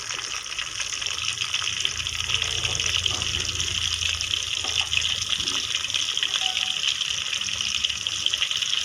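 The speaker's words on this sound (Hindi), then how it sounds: "हम लोग फ्राई के लिए सरसों का ऑयल इस्तेमाल करते हैं। इसको डीप फ्राई कर लेना अच्छे तरीके से।" Fish deep frying in mustard oil gives a continuous, even hiss of bubbling and sizzling that stays steady and fairly close, with no voices.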